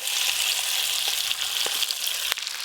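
Marinated fish pieces hit hot oil in a pot already seasoned with slit green chillies and nigella seeds, giving a steady, bright sizzle with a few sharp pops and crackles.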